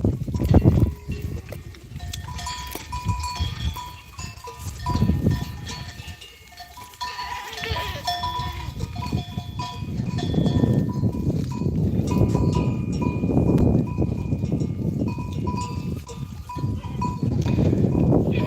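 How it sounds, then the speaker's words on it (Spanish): A herd of goats grazes on a mountainside, with scattered bleats, some soft bell clinks and a steady background of trampling and rustling that grows fuller toward the end. "Todo esto lo limpian las cabras ahora,"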